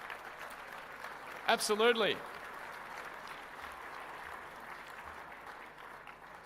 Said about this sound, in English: a round of applause for that